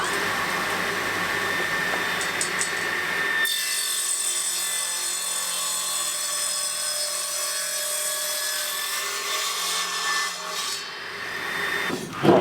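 A hand saw rasps through oak while cutting a tenon for a casement window, steady back-and-forth strokes close by, with a faint whine in the background and a brief knock at the end.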